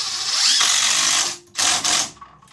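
Power drill driving inch-and-a-quarter tan deck screws into pallet wood, a loud close whirring burst that slows and stops, then a second shorter run, with no talk.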